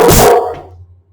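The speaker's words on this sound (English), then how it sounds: "So like the neighbor's dogs are out." A single loud, close dog bark from a neighbor's dogs outside, cutting off sharply and fading into quiet.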